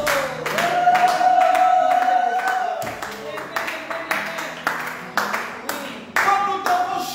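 A church congregation claps and applauds in praise, with dense, sustained clapping that thins into scattered, uneven bursts, mixed with tonal voices or cheering throughout.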